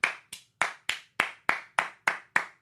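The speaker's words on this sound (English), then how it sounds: "I'm just going to give a round of applause here real quick" One person claps nine or ten crisp, evenly spaced times, close and dry, with nothing else in the background.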